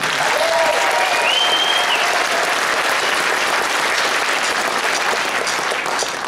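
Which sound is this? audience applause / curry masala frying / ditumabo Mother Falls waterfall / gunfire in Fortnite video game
audience applause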